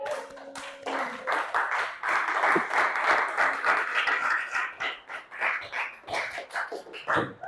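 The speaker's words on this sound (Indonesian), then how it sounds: "Tepuk tangannya mana?" Audience in a school classroom session clapping together, a steady burst of applause lasting several seconds, fairly faint, with a few brief voices mixed in.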